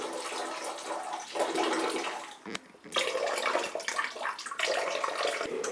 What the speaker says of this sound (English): So turn off pump and let the water out.